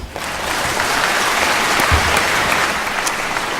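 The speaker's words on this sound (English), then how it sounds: "warm round of applause." An audience at a live concert event in Los Angeles applauds warmly, a dense, loud, continuous wash of clapping from a full room with no talk over it.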